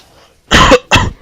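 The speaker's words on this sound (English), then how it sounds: "that cough is harassing me as much as possible" Someone commentator coughs twice in quick succession, close and loud, during a League of Legends match commentary.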